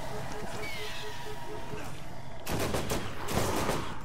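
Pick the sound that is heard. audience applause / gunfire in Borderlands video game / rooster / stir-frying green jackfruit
gunfire in Borderlands video game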